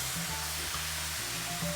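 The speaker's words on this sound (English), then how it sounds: "Okay, we'll add some vermouth. We're going to flambe it. That deglazes the pan." A hot pan sizzles steadily as fish is flambéed with vermouth, a close, constant frying hiss with a faint low rumble beneath, no voices.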